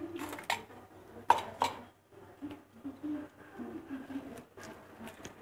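Crushed ice spooned into a glass for falooda, giving a few sharp clinks and rattles of ice and spoon on glass close by, followed by quieter scraping and handling noises.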